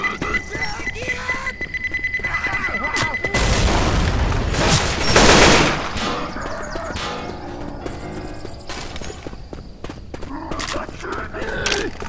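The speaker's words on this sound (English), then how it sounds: "Throwing a pipe bomb!" A pipe bomb blasts in Left 4 Dead 2: a loud, broad, roaring explosion swells and fades over a couple of seconds, amid ongoing game noise with scattered clatter and faint voices.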